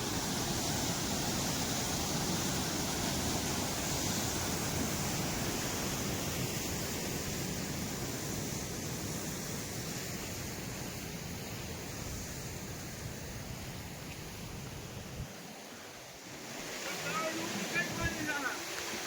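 Rushing water after heavy rain in Ingorala, a broad steady roar of flowing water that holds loud for most of the clip, then thins near the end as other faint sounds come through.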